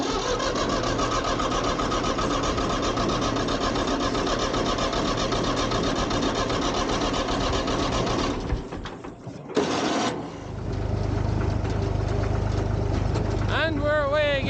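Massey Ferguson 35 diesel tractor engine clattering steadily and loudly up close, then stuttering briefly as it is restarted and settling back into a rough, continuous running chug.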